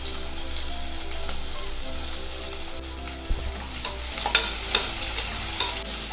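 Sliced onions sizzle in hot oil with whole spices like cinnamon, clove and fennel for chicken biryani, a steady frying hiss broken by a few sharp stirring clinks and scrapes near the end.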